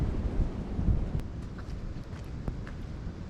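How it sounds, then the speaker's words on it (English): Strong wind blows across a truck campsite on a blustery day, a steady roaring gust buffeting the microphone with faint scattered knocks and ticks, no talking. "This is a windy day"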